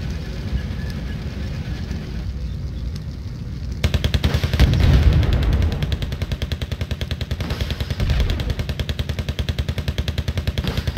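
T-80 tank firing in the Wargame strategy video game: a loud, rapid run of repeated booming shots that starts after a quieter rumbling stretch and keeps a fast, even battle rhythm.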